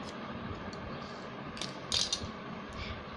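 Scissors cut fabric for a baby frock, producing faint, crisp snipping and rasping over a quiet background hiss, with a few sharper snips clustered near the middle.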